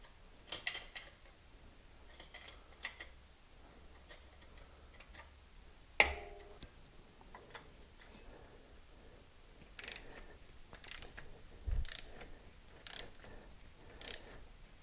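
Wrench ratcheting down a 21 mm thermostat temperature sensor on an '87 Olds 442, quiet close ticks and clicks in uneven bursts, faint and intermittent against a hushed room.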